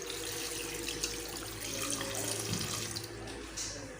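Water pours steadily from a glass into a cooking pot of meat with ginger-garlic paste and salt, a faint continuous splashing and trickling under quiet kitchen background hum.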